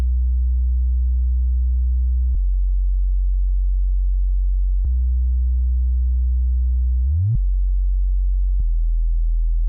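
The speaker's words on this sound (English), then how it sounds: "It's just a simple sine wave from 3x oscillator." A deep sub-bass sine tone from a 3x Osc synth oscillator, holding low notes, stepping to new pitches every couple of seconds, with one quick upward glide; clean and alone.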